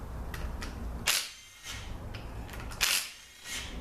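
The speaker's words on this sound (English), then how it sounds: "now let's get these bolts out" Bolts being removed from a ZF 5HP19 transmission from a Porsche Boxster, with two sharp ratcheting or clicking bursts of a power tool separated by short pauses, close and fairly loud.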